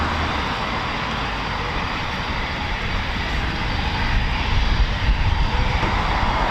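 Steady roar of a Eurofighter Typhoon FGR4 jet engine at RAF Coningsby, a broad continuous rumble that grows slightly louder toward the end, with no voices.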